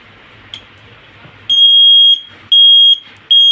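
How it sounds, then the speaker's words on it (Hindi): A three-wire flasher buzzer sounds a loud, shrill electronic tone in repeated on-off bursts of roughly half a second, switching cleanly between tone and near silence. "अब जैसे मैं कनेक्ट करता हूँ तो बजर बंद चालू होना स्टार्ट हो जाता है"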